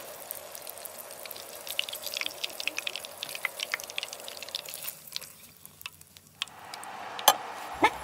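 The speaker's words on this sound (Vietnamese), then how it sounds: "Chiên thêm phần bánh còn lại nè." Cheese-filled cakes fry in hot oil, a faint crackling sizzle with scattered pops that quiets partway through, followed by a few louder clinks.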